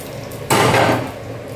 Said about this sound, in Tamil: நெய்யில் தாளிச்சு கொடுத்துருங்க கடுகு பருப்பு வத்த மிளகா